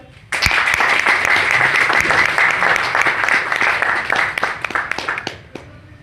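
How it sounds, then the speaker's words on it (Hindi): Crowd applause at a business marketing seminar, a loud, dense burst of clapping that starts abruptly and holds steady for several seconds before thinning out. "तालियां बजा लो।"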